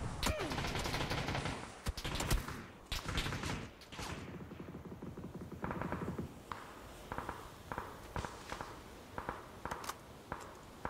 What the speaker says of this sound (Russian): Что сзади стреляет мне?